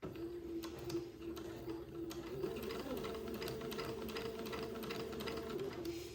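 A sewing machine runs a steady straight stitch along the curved seam of a boy's old-fashioned baby day gown, with pins being pulled along the way; the hum and rapid needle clatter continue evenly throughout at moderate volume.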